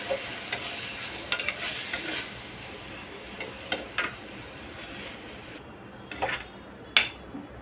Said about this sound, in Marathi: म्हणून आपण अशी भाजी भाजून घेऊया तेलावर.